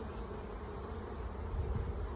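Honeybees buzzing at an open hive during a spring split, a steady close hum that stays level throughout, alone with no talk.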